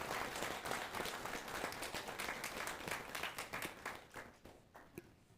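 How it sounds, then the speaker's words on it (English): A conference audience at a Politico Speakeasy gives a round of applause, dense clapping that thins into scattered claps and fades near the end. "So give them a round of applause"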